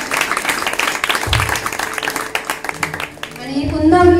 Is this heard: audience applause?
yes